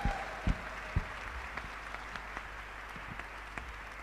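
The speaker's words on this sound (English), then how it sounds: "With a warm round of applause" Audience applause at the Global Entrepreneurship Summit 2017 greets a guest's introduction on stage, a fairly faint, steady patter of clapping from a large hall with a few sharper claps near the start.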